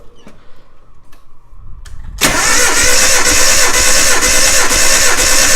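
A Nissan Hardbody pickup engine cranks over on the starter during a cylinder compression test, a loud steady churning that kicks in abruptly after a couple of seconds of quiet clicks and continues to the end.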